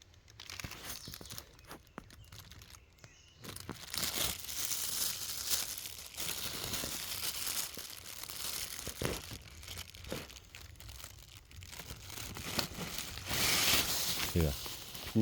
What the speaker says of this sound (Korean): 비닐봉지를 하나 가지고 와가지고